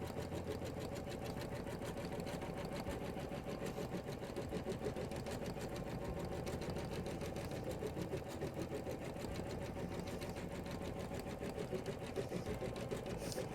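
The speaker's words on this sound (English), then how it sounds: "So we'll touch the start stop button and watch it embroider." A Janome embroidery machine stitches couched yarn at a steady, slow pace, its close, even mechanical chatter continuing without a break from start to finish.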